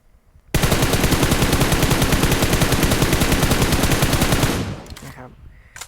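Rapid automatic gunfire in PUBG Mobile, fired from a crouching stance: one sustained, loud burst of closely spaced shots lasting about four seconds, then a short tail of fading echoes and a few faint clicks.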